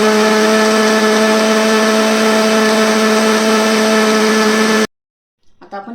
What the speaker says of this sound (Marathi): आता आपण इथे मिक्सरला फिरून घेऊया.